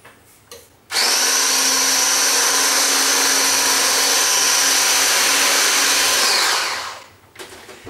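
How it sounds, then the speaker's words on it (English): An electric hand mixer runs steadily for about six seconds, beating an egg into cupcake batter, a loud even whir that starts abruptly and winds down at the end. "we're going to add the eggs one by one and then keep mixing it up"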